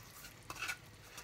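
Cream sauce with boudin blanc and mushrooms stirred in a pan, a brief soft scrape with a light clink of utensil against the pan, faint and close over a quiet background.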